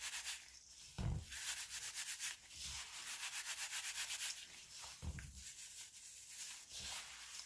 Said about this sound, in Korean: 그리고 덩어리 진 부분이 풀어질 수 있게 이렇게 살살살살 비벼주세요.